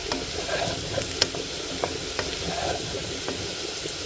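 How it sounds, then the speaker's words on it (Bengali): Potatoes frying in oil with a little sugar, prepared for biryani: a continuous close crackling sizzle with scattered sharp pops and light stirring clicks, steady throughout and without talk. "আলু ভাজা হয়ে গেছে"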